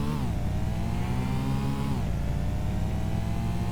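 Racing cars accelerating in Need for Speed: Porsche Unleashed, a steady, close engine drone that rises in pitch, dips at a gear change, then climbs again.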